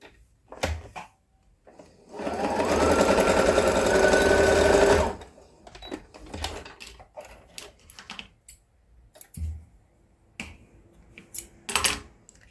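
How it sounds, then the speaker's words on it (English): Sewing machine stitching elastic onto a headband made from a scarf, one loud steady three-second run of rapid stitching, surrounded by clicks, snaps and handling of fabric and the machine, close. "We're going to take this side and sew it down."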